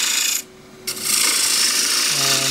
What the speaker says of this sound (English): Now, I'm going to take this off with a gouge